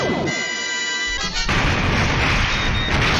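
Phaser fire from a Star Trek: The Original Series episode: a sustained electronic tone rings out, then a loud, broad blasting rumble takes over and rolls on, close and dense, without speech.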